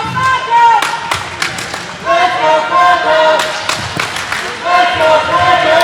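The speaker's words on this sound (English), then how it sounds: "We have a little bit of a cheering war between St. Mary's and Franco-Cité" Volleyball fans from two rival schools cheer and chant in a gym during a girls' high school championship match, loud bursts of crowd noise, thumps and claps echoing through the hall with a commentator talking over it.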